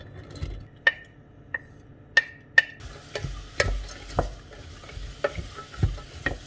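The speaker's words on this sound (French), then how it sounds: "je vais faire revenir oignons et carottes ensemble" Onions and carrots sautéing in oil in a frying pan, crisp spoon clinks and scrapes at an uneven rhythm over a growing sizzle, close up with no talking.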